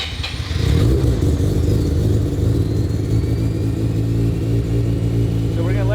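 Mazda RX-7 rotary engine built to 700 HP, in a 2200 lb car, cranking and catching, then running at a steady, loud, rough idle close by.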